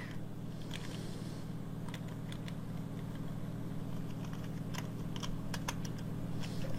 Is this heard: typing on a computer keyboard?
yes